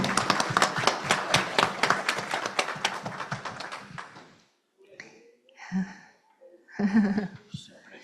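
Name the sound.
audience applause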